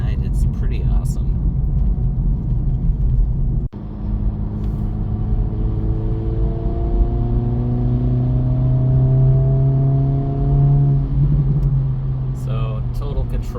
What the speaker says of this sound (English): accelerating around a curve. Not just any curve, but a wet curve.